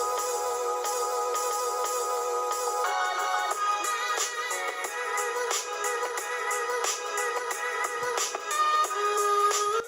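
Music played from iTunes on an iBook G4 laptop, coming through its small built-in speakers at full volume: a thin, bass-less, steady melody that runs loud and continuously with no talking.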